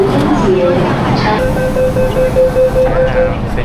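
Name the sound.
train arriving at a Hong Kong station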